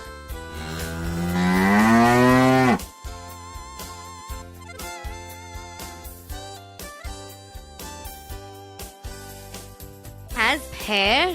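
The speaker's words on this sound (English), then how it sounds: "Cow." A cow gives one long, loud, rising moo close by, followed by a steady musical backing with rhythmic beats.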